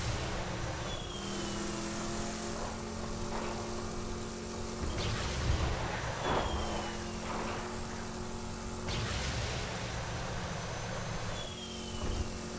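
A vehicle driving in Borderlands 2, a continuous engine drone with shifting pitch and occasional whooshes and impacts, steady and moderately loud with no speech.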